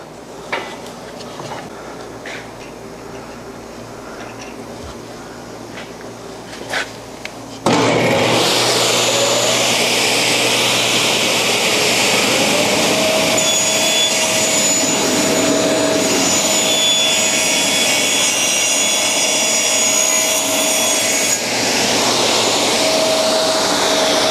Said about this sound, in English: I'm going to cut that square off on my saw.